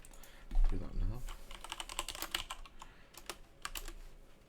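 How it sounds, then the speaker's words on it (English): Fast clicking keystrokes on a computer keyboard come in quick irregular bursts, with a brief murmur of a voice near the start. "Forgive me, dead loud typing."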